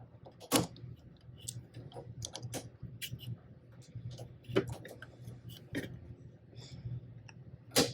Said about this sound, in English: we are just going to open up the B slot and remove the fine point blade that's there, and we are going to insert our knife blade